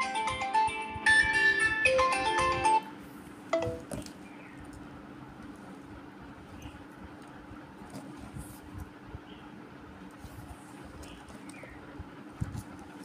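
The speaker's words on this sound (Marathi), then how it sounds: "कारण चुकून फोन आला होता कोणाचा" A phone ringtone sounds from an accidental incoming call during a recitation, a bright melodic electronic tune that plays for a few seconds and then stops, leaving quiet room sound.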